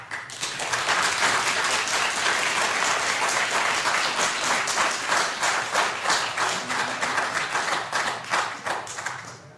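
Sustained applause from a crowd at a city council meeting in Clayton, California, dense steady clapping that slowly thins toward the end.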